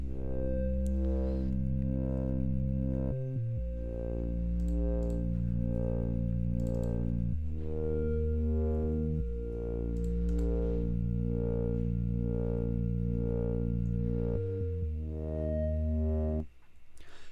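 Lofi hip hop bass line with sliding notes plays alongside a melody, the sustained, warm, slightly distorted tones changing pitch in steady phrases before stopping abruptly near the end.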